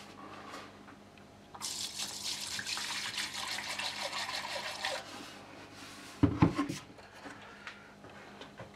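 Water pours steadily into an ultrasonic cleaner for a few seconds with a bright, splashing rush, then stops. A couple of clunks and knocks follow.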